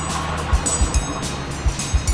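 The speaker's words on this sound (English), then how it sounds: "They're scrubbing the car. They're a little noisy." Automatic car wash rollers scrub a car, a steady broadband wash with soft dull thumps and slaps recurring every few tenths of a second, heard up close from inside the vehicle.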